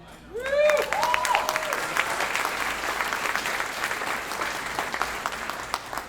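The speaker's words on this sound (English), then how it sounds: "I just want to give a round of applause to all the mothers in the room right now" A room full of people applauds mothers in the audience at a speaking event, clapping swelling quickly to a dense, sustained ovation that carries on to the end after a brief voice at the start.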